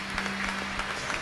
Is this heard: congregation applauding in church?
yes